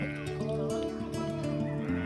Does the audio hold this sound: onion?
no